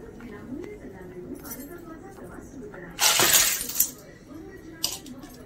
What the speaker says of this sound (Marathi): आता त्याच्यामध्ये शिंपल्या, शिजवलेल्या शिंपल्या आहेत ना, त्या टाकून घ्यायच्या व्यवस्थित.